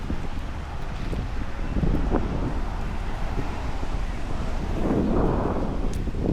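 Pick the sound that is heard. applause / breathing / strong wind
strong wind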